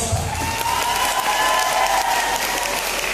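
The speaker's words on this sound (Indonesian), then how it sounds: "Duh, tepuk tangannya kok lemes." Audience applause at a Palembang education festival, a steady dense wash of clapping from a crowd that holds at an even level throughout.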